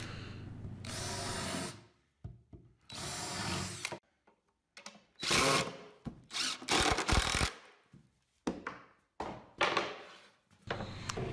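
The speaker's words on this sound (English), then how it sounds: "I like to pre-drill all the holes with a countersink bit." A power drill with a countersink bit pre-drills holes in a wooden cabinet, running in a series of short, close bursts separated by brief pauses, with no talk.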